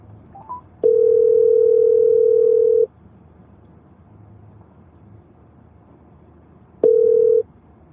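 Telephone call-back tone: a steady two-second electronic beep at one pitch, loud and clean, followed by a short repeat several seconds later, with quiet between and no talk.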